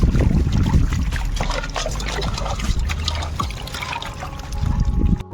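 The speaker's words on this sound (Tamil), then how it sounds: "உப்பு போட்டு நல்லா கழுவிக்கணும்." Fish being washed by hand in salted water, with close sloshing, splashing and trickling sounds that are loudest at the start and continue unevenly throughout.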